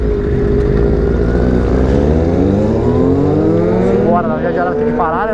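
Motorcycles including a Yamaha XJ6, Kawasaki Z800, Kawasaki ZX6R and Honda Falcon 400 riding slowly through a city at night, a loud droning engine rumble with shifting pitch, rising revs near the end and a voice heard over it.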